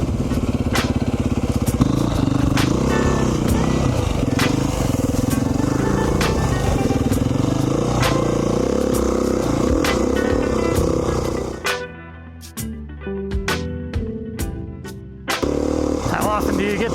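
A 2019 Beta 500 RR-S dual sport motorcycle rides on technical single track, its engine droning and revving close and loud, then dropping out near the end into a few short bursts.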